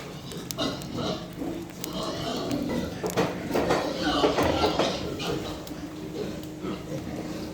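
Piglets grunt and squeal continuously in a busy pen, huddling under a heat lamp, with a low background hum and occasional clinks.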